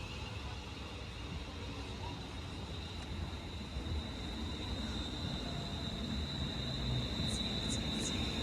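A train rumbles steadily through Kettering station with a constant broadband roar and a faint high whine, no speech.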